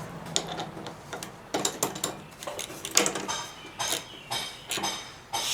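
Metallic clicking and ratcheting of a hand ratchet snugging a spark plug into a flathead small engine on an MTD Yard Machines push lawnmower, a series of short irregular clicks with clanks of tools nearby, no talking.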